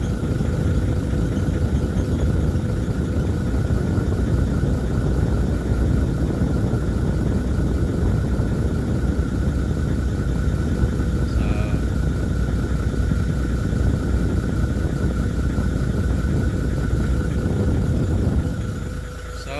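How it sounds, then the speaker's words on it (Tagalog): A Toyota Land Cruiser 80 series sits idling with its air-conditioning compressor running, giving a steady, even engine rumble and a constant whine that hold nearly unchanged throughout before easing slightly at the very end. "Compressor is kick in now."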